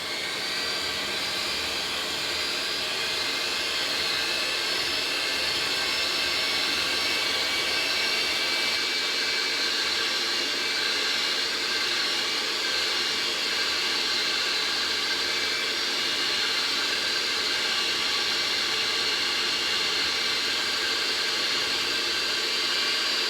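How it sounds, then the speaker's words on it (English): A KitchenAid stand mixer with a whisk attachment whips a mixture for coconut macaroons toward peaks, giving a loud, steady whirring drone that runs unbroken with no talk over it. "if you have a KitchenAid with a whisk attachment or a hand mixer"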